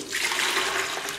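Water pours steadily into a florist's papier-mâché container, used to mount silk plants in plaster of Paris, as a continuous close splashing gush with no speech.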